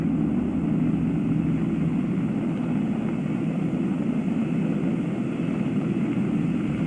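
A steady, heavy roar of Apollo 11 Saturn V rocket engines after staging and ignition fills the whole stretch, a dense low rumble with broad noise above it, continuous and unbroken throughout.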